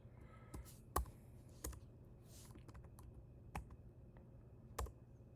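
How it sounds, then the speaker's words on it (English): Sparse keystrokes and clicks on a computer keyboard, faint and close, with five or six distinct taps scattered irregularly over a quiet background. "Too many fingers on the keyboard."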